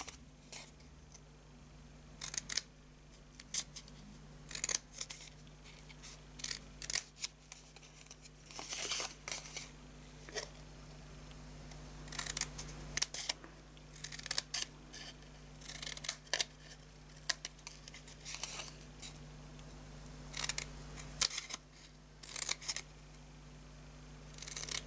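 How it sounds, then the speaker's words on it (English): Scissors snip repeatedly through paper in irregular bursts of crisp cuts, close up, with short pauses between snips and no voices. "using our scissors, we're going to chop into the sides here"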